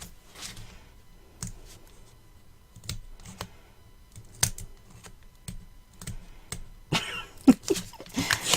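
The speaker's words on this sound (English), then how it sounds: "Release the tape backing." Backing is peeled off adhesive tape while a Christmas gift box album is being made, heard as faint, sparse crackles and soft ticks in a quiet room, ending in a louder crinkly burst.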